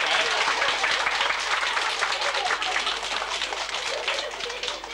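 A small audience at a magic show applauds steadily, a dense patter of many hands that stays fairly close and loud before tapering slightly toward the end.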